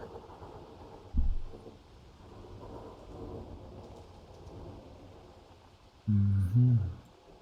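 Rain falls steadily on a cool South African winter evening, and two loud rumbles of thunder roll in, one early and one near the end, with faint talk in the background.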